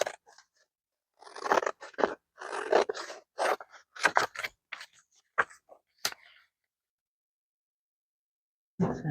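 Scissors cut paper for a journal in a close, crisp run of snips and crunchy slices. The cuts come in quick bursts, then silence falls before one last faint cut at the end.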